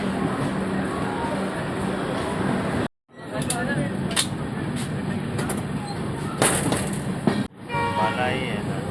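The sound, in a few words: passenger train departing and running, Amrapali Express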